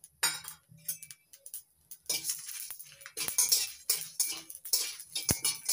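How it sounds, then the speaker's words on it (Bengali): Cumin, coriander, fennel and dried chillies dry-roasting in an empty pan, with repeated light clinks and scrapes of a utensil stirring the spices, close by and in irregular bursts. "জিরে, ধনে আর মৌরি, শুকনো লঙ্কা একসঙ্গে ভেজে নেব খালি খোলায়।"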